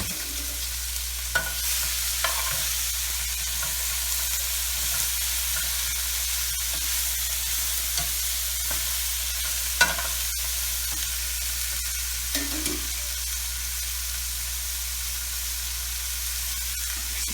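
Peppers and onions sautéing in olive oil in a pan, a soft steady sizzle with occasional light clinks and scrapes of stirring over a low background hum, no talk.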